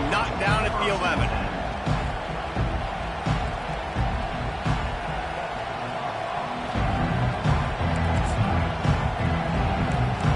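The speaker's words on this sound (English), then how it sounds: "They challenge this crowd to bring the energy, and I'd say they're doing that." A stadium crowd in the NCAA 25 football video game roars steadily as a loud, continuous wash of cheering, with an announcer talking over it.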